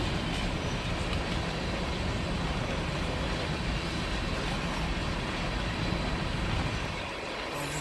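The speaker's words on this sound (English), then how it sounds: "Wow, that's a long train never seen before." A long freight train rolls past close by, its railcars making a steady, dense rumble and rattle that holds for most of the stretch before thinning out near the end as the last cars go by.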